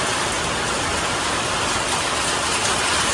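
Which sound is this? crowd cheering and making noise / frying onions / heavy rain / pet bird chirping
heavy rain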